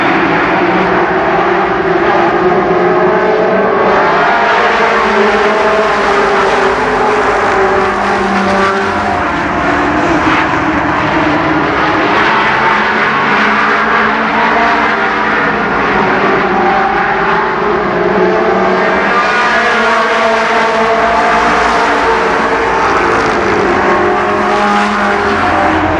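NASCAR Winston Racing Series late model stock cars roar around Columbus Motor Speedway, a loud, continuous engine blare that swells and fades as the pack passes.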